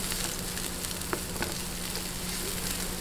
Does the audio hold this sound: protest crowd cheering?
no